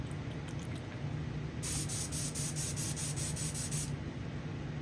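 Cleaner sprayed onto a big belly smooth swimbait fishing lure, a steady close hiss lasting about two seconds over a constant background rush, with no voices.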